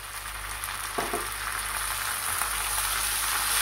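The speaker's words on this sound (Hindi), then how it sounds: "अब मैं इसमें टमाटो पेस्ट या टमाटो प्यूरी डाल रही हूँ" Tomato paste or puree dropped into a hot frying pan while cooking a white bean (lobia) masala curry: a steady, dense sizzle with a soft plop early on, no voices.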